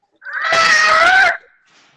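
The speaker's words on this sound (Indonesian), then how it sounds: "Siapa itu teriak-teriak?" A child screams loudly in the background of an online class lesson, one sustained shrill cry lasting about a second, with a faint voice trailing after.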